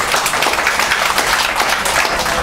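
Dense, continuous applause from a seated audience at a health talk, a steady wash of many overlapping claps with no gaps, moderately loud and fairly near.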